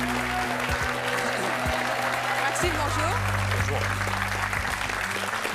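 A studio audience on a French talk show applauds to welcome a 27-year-old graffiti artist, steady clapping under background music with a few voices.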